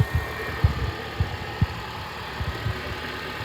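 Cold-started Honda Accord engine idling, heard up close as a steady low rumble with soft, irregular thumping pulses and a faint constant hum beneath.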